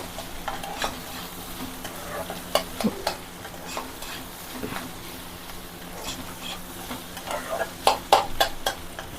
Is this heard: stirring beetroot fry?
yes